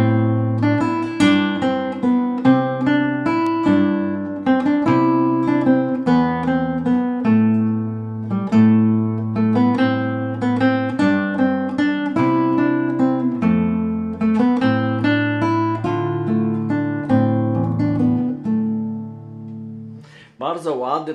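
The lyrical, singing melodic section of a theme played on a keyboard instrument, a flowing melody over low sustained accompaniment lasting about twenty seconds, then fading out.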